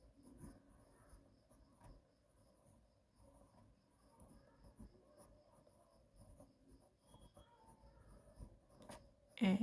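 Faint, soft scratching of a pencil drawing lines by hand on paper, steady and quiet, with a brief louder tap at the very end.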